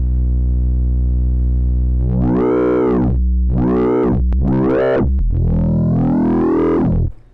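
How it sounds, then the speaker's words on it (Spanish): A distorted synth growl made in the Vital synthesizer sounds in four swelling, wobbling notes after a low sustained drone, harsh and buzzy, ending abruptly. "voy a poner algo de distorsión."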